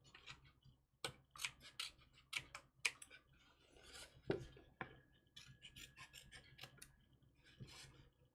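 Scissors cutting paper, a series of quiet crisp snips and rasps at an irregular pace, close and faint with no talk.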